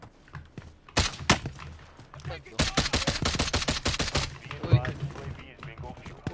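Sniper gunfire in the Warzone video game, with a couple of sharp loud shots followed by a rapid, sustained volley of cracking reports, while voices talk in between.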